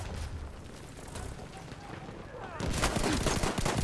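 Pistol gunfire in Battlefield 1 multiplayer: a busy battlefield clatter with scattered shots, then a denser, louder burst of rapid firing that starts partway through.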